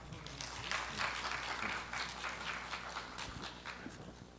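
Audience applause at an architecture and SketchUp design conference, welcoming a presenter to the stage: a steady wash of many hands clapping at moderate volume, holding through the moment without speech.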